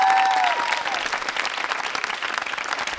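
Audience applause at a university quiz show on consumer protection, a dense burst of clapping from a crowd that thins slightly toward the end, heard alone.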